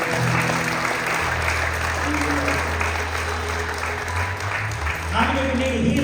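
A church congregation claps together in a sustained, dense patter that stays loud throughout, mixed with voices and a low musical drone underneath.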